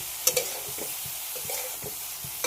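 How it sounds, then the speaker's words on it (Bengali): Tomato dropped into a pan of frying whole spices (bay leaf, small cinnamon stick, cardamom) for a vegetarian dish, giving a soft steady sizzle with a few light stirring clinks and scrapes near the start and end. "টমেটোটাও একসাথেই দিয়ে দিলাম।"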